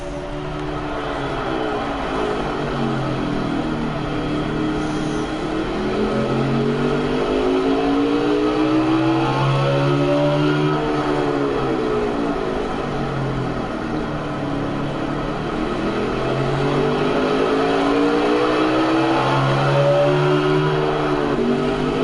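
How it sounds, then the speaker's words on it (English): A race car laps a short track at night, its engine climbing and falling in long rising and dropping sweeps as the throttle opens and closes into the turns, loud and continuous. "you guys can kind of hear the throttle and the brake around him"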